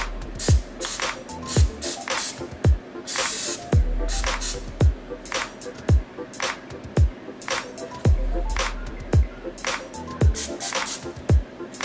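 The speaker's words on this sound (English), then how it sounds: "Let's see how regular cooking spray sprays on a paper towel." Short hissing bursts of a cooking spray can spraying onto a paper towel repeat again and again in an irregular rhythm, close to the microphone.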